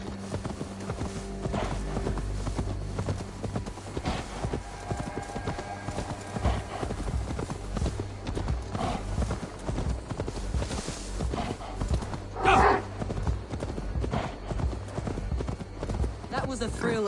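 Horse hooves clip-clop in the video game Assassin's Creed Valhalla, a steady rhythmic trotting beneath music and talk, with a brief whinny partway through.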